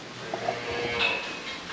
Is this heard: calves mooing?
yes